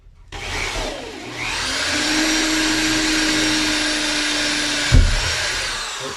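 Drill driving a screw down through wood into metal framing inside a Skoolie, a steady high-pitched whine rising after a short start, running continuously for several seconds and ending with a sharp thump.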